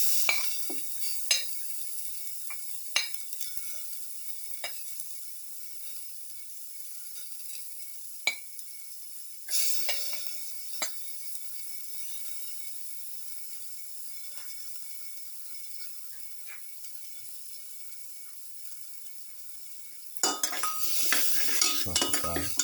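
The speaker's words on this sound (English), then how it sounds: "Saute the garlic." Garlic with curry leaves sizzles softly in a pan, with a steady hiss under scattered clicks and scrapes of a spoon stirring, and a louder burst of frying near the end.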